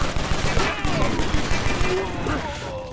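Gunfire in the video game Stranglehold: rapid bursts of shots fire in a steady rhythm, loud and close, with game sound effects layered underneath.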